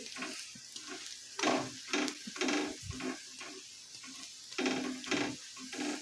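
Moong dal chilla roasting in a pan with oil or ghee added at the sides, a soft steady sizzle broken by repeated scraping and pressing taps from a spatula, close and moderately quiet.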